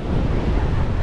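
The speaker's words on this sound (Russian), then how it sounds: "у нас такой здесь ветрище, я даже не понимаю, как вообще снимать" Strong wind roars across a beach in Pattaya, Thailand, buffeting the microphone in a loud, dense, low rumble, with surf mixed in and no voices.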